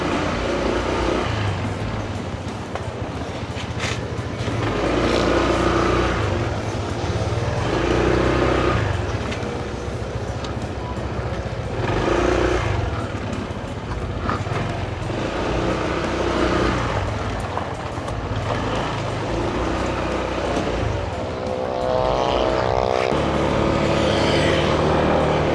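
Engine of a vehicle called Lucky running steadily while driving toward town, a continuous loud motor drone with rising and falling surges like gear changes, no talk over it.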